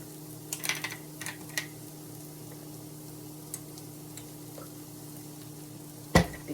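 Pancetta and chard sauté in a pan with a steady, faint sizzle under a low background hum, broken by a few soft clicks and one sharper clatter near the end.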